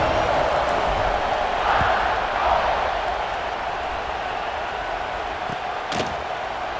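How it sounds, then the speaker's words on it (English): Stadium crowd in EA Sports College Football 26 buzzing after a score, a broad, steady roar of many voices with a few faint thuds, continuous and fairly loud. "this crowd is buzzing after that last score."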